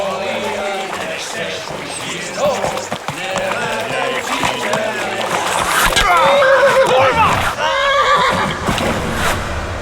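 Horse in the video game Kingdom Come: Deliverance whinnying several times over hoofbeats and movement, fairly close and loud, with people talking throughout.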